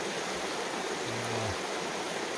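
Shanty Brook, a mountain trout stream in the Adirondack wilderness, rushes in a steady close hiss of flowing water, with a brief low hum in the middle.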